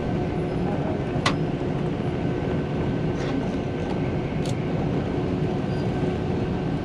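An electric Tilt Train on the Brisbane to Rockhampton line picks up speed, a steady broadband rumble of wheels and motors heard from inside the carriage, with a couple of brief high squeals along the way.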